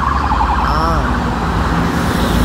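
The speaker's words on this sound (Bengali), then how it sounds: "এটা পুলিশের গাড়ি, আন্ডার কভার যাইতেছে, আন্ডার কভার।" A police car siren wails with rising and falling pitch as it passes on a highway, over loud, steady road traffic noise.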